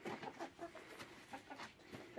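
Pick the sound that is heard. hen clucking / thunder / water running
hen clucking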